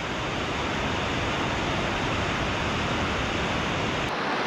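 A small waterfall in a creek along a tramping route to Lake Christabel Hut: a steady, dense rush of falling water that fills the whole scene evenly and continuously, close and without any talk.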